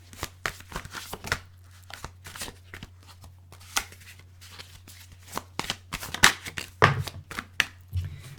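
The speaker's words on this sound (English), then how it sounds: "The cards do not want to be shuffled." Cards are shuffled with quick, crisp riffling and tapping bursts, close up, in uneven clusters over a faint steady hum.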